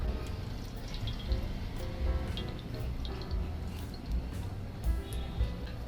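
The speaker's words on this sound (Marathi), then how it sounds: "आता आपण याच्यावरती तेल ओतून घेऊया" Oil is poured onto a hot frying pan over a charcoal stove for vam fish fry, giving a soft, continuous hissing trickle close by with faint irregular ticks.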